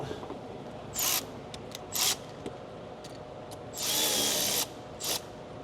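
Power tool snugging down a PPE intake kit on a 2020-or-later 6.7 Ford Powerstroke diesel, heard as several short, loud whirring bursts of about a second each and one longer run, with a quiet workshop between them.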